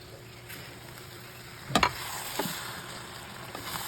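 Coconut milk for Bicol laing goes into a hot pan, giving a low steady sizzle with a sudden crackling burst as the liquid hits, then a gentle simmering hiss with a faint stir.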